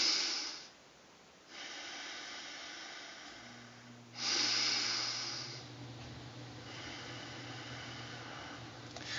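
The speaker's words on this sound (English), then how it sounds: "Breathe like that instead of just normal, regular, shallow breathing." Deep, slow, conscious breathing, with long breathy inhales and exhales that rise and fall in a steady rhythm, close and soft with no talking.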